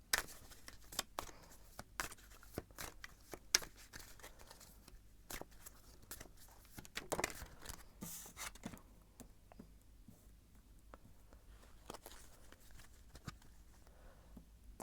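Tarot cards are shuffled close up in quiet, irregular bursts of soft slaps and riffles, fading to sparser ticks toward the end. There is no speech.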